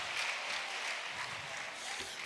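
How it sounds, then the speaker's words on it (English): Faint, distant audience applause at a conference, a soft steady wash of many hands clapping at low level throughout. "Another round of applause, ladies."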